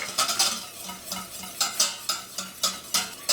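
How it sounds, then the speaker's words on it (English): Whisk stirring melted butter in a pan for homemade shrimp Alfredo sauce makes rhythmic, close scraping and clinking strokes about three times a second, with a faint sizzle underneath. "Whisk, whisk, whisk."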